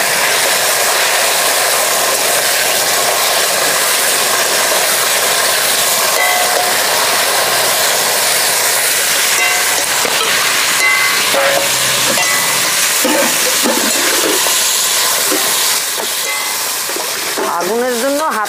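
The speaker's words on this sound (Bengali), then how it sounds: "তো পেঁয়াজ লাল লাল করে ভাজা হয়ে গেছে, এখন আমি খাসির মাথাগুলো সব দিয়ে দিই।" Goat heads dropped into onions fried red in a pot, a loud, hissing sizzle filling the whole stretch, with scraping and stirring clatter near the end.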